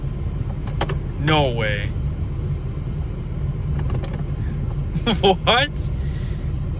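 A Ford Super Duty pickup idles with the key removed, giving a low steady engine rumble beneath brief speech from the driver and a couple of short clicks in the cab.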